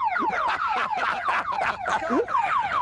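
A warbling electronic car alarm siren on a 1980s BMW convertible, an aftermarket unit, cycles rapidly and repeatedly, rising and falling in short bursts, loud and close with no speech.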